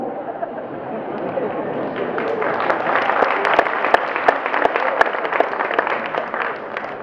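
Audience applause at a Jain sermon by Vidyasagar Ji Maharaj, swelling into steady clapping from a sizeable crowd with sharp individual claps standing out, continuing for several seconds.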